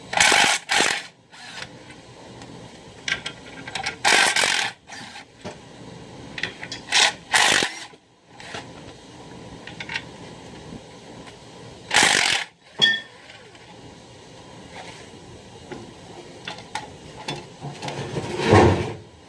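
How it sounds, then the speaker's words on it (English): Tools clank and ratchet while the clutch pressure plate comes off a BMW E30 with an M42 engine, in irregular bursts of metallic clicking and scraping separated by quieter pauses, close and unaccompanied by speech. "now I'm removing the pressure plate."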